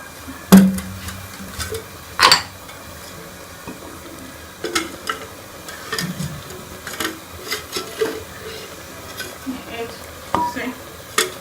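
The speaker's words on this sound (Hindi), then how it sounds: "ये सारे मसाले डाल लेने के बाद हम इसके अंदर घी डालेंगे और इसको अच्छी तरह से भून लेंगे।" Spices frying in ghee in a pan for matar gosht, with intermittent scraping and stirring clatter against a soft sizzle, a few sharper metallic knocks near the start, moderately close.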